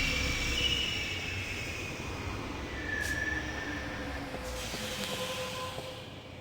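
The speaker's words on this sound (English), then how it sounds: "I think that was the train we needed to go to." A train rumbling past in a video game set in the 23rd century, a continuous low mechanical roar with hissing and faint metallic squeals, steady and fairly close with no talking.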